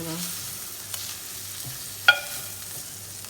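A curry spice blend toasts in a pan while being stirred, a soft low sizzle with scraping strokes and one sharp clink of the utensil against the pan.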